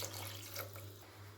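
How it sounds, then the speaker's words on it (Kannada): Water runs steadily into a pot of snake gourd and egg sambar as it cooks, a soft continuous trickle with a low kitchen hum underneath, no voices. "ಕನ್ಸಿಸ್ಟೆನ್ಸಿನ ನೋಡಿ ನೀರು ಹಾಕ್ಕೊಳ್ಳಿ"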